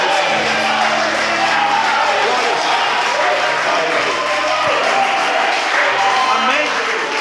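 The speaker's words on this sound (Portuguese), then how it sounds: "tem que bater palmas bem for para Jesus, porque Jesus está fazendo obra." Church congregation clapping throughout, a dense continuous wash of applause with crowd voices and speech mixed in.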